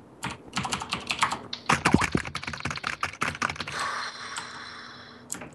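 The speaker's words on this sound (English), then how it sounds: "Everyone on YouTube has a loud keyboard." Rapid clattering keystrokes on a loud mechanical computer keyboard during a gaming session, dense bursts of clicks close to the mic with brief pauses and a steadier stretch of typing near the end.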